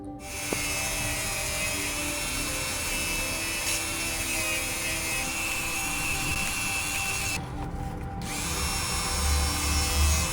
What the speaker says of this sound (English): I think I'm gonna have to use my Dremel for that.